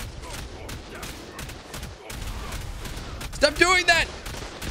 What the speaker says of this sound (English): They're shooting my rockets before they hit their destination.